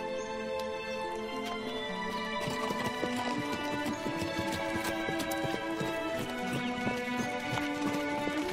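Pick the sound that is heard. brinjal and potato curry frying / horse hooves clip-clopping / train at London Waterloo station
horse hooves clip-clopping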